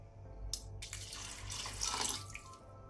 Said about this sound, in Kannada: ಬರೀ 2 ಲೋಟ ನೀರು ಹಾಕ್ಕೊಳ್ತೇನೆ.